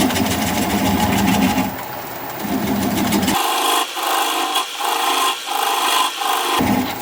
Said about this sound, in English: I'm going to switch to a 3/8 inch swept back bowl gouge so that I can get in there a little closer.